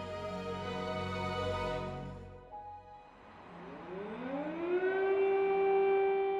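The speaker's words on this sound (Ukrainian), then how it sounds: "Сирени, коли тривоги" An air raid civil defense siren sounds during an alert in Ukraine, a loud wailing tone that falls away, then rises again into a long sustained howl, with no voices.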